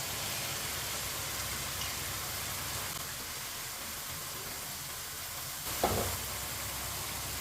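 Washed moong dal frying in a hot pan, giving a continuous hiss and sizzle at a steady low level, with a brief utensil clatter near the end.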